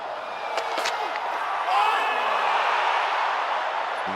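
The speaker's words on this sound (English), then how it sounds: "Crowd are into it." Cricket crowd at Lord's during the final day of an England v India Test, a broad steady roar of cheering and chatter that swells slightly midway and holds, with a few sharp claps or shouts near the start.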